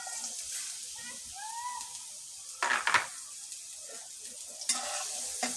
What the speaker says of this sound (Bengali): পেঁয়াজ কুচিটা ভাজছি রোস্টের জন্য। রোস্টের জন্য আমি পেঁয়াজটা ভাজছি।